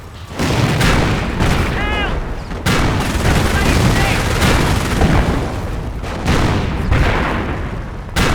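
Artillery and gunfire in Company of Heroes, loud booming blasts and rattling shots in bursts across the clip, with shouted soldier voices between them.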